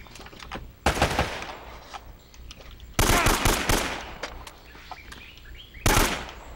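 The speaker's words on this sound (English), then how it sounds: "Who's shooting me now?" Gunfire in the video game Uncharted: Drake's Fortune, loud bursts of automatic rifle fire and single shots in three main volleys over lighter scattered shots and ambient game sounds.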